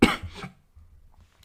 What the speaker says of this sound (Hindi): ये तो खांसी तो और ही परेशान कर रखी है